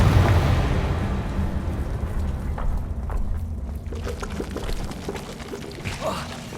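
A fiery Confringo blasting spell in the video game Hogwarts Legacy opens with a loud, roaring burst. The blast fades into a long crackling rumble, with a few faint clicks near the end.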